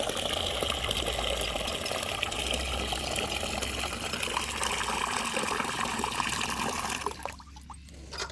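Water gushes steadily as it is poured into a container for a goat to drink in a village setting, a continuous close splashing stream that cuts off near the end.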